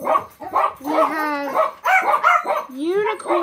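Dogs yip, whine and bark in short, close bursts, some rising and falling in pitch, mixed with voices nearby.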